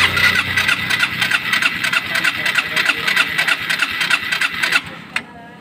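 A Yamaha Mio Soul i 125 scooter with a fuel pump problem cranks on the starter button, a loud steady churning whir lasting about five seconds before it cuts off without the engine catching.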